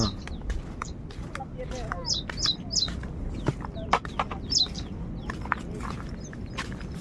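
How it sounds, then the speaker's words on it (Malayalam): Sharp, high calls from a bird in a tree repeat in short bursts against a rustling outdoor background, with a voice murmuring at times. "ഒരു കിളി കിടന്ന് കുറേ നേരെ കരയുന്നു"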